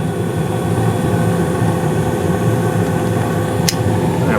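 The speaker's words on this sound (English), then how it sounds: "Burner's going nice and strong" A 2016 Carrier gas furnace runs steadily, its burner roaring with a broad, even rumble as the blower pushes air, a continuous close-up drone with no pauses and a faint brief tick near the end.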